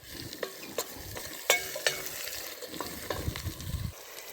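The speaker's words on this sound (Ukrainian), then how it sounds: "Це все перемішуємо. Вона потрібна прожаритись." Smoked sausage frying in a pot over a wood fire for bograch, with a steady sizzle and several sharp scraping knocks as it is stirred, close and fairly quiet.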